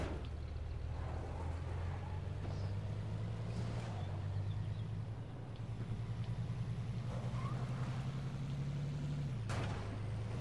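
Vehicle driving in State of Decay, a steady low engine drone with gentle pitch shifts as it changes speed, plus faint rattles and a sharp clunk near the end.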